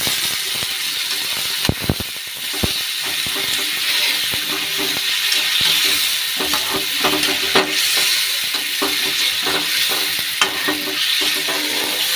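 Potatoes and spices frying in a pan, a loud steady sizzle with scattered scraping stirs and clicks throughout, no talk.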